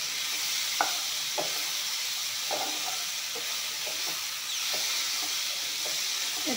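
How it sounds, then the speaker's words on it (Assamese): Salted ingredients fry in a pan under a continuous close sizzle, with a few spoon scrapes spaced irregularly over the hiss. "এয়া চাওক, এইখিনি ভাজি ল'লোঁ।"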